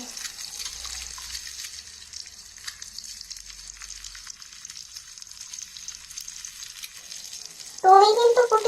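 Nimki, a savoury pastry, frying in oil in a miniature pan, a faint steady sizzle and hiss that runs quietly throughout, with a louder clattering swell near the end.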